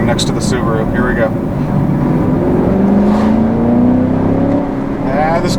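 A 2020 Chevrolet Camaro 2SS with a 10-speed automatic revs, its engine tone rising steadily midway, while someone talks over it.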